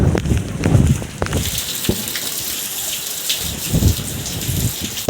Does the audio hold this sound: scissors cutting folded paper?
no